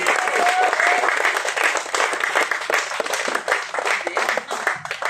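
An audience at a live music festival at a mill applauds the sound engineer: dense, sustained clapping throughout, with a voice briefly audible near the end.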